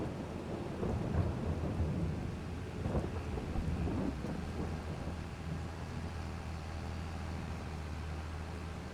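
Steady heavy rainfall in Farming Simulator 22 with rumbling thunder underneath, a continuous wash of noise that stays loud and unbroken throughout, with no voices.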